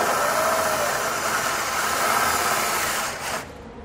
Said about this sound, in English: It may be necessary to get a straight drill with your bit to pull over on the exhaust a little bit while you're going